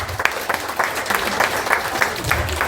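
A small crowd claps steadily, the individual hand claps close and distinct, with a voice faintly underneath.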